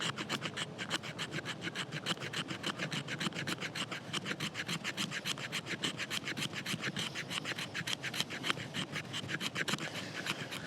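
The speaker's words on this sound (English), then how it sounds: "Let's see how well it scrapes on the old fat wood." The spine of a Helle Bleja folding camp knife scrapes fatwood in fast, steady, rhythmic rasping strokes, close and loud, continuing without pause.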